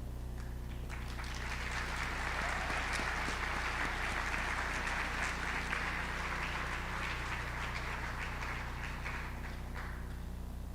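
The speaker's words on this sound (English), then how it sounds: "a round of applause for our new senior members" Audience applause fills a National Honor Society ceremony for new senior members: a steady, dense wash of many hands clapping, held at an even level from start to finish without a break.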